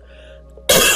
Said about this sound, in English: I have a coughing fit